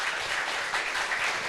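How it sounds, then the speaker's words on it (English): Audience applause for a gold medalist at a regional sports awards evening, a dense, steady wash of many clapping hands, fairly loud and continuous with no voices over it. "Ladies and gentlemen, a round of applause,"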